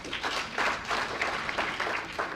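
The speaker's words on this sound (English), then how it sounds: "Please give them a hand of applause." An audience at a symposium applauds the panelists, a soft, steady patter of many hands clapping at a distance that lasts the whole moment.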